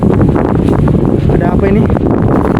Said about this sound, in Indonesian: tiba-tiba angin kencang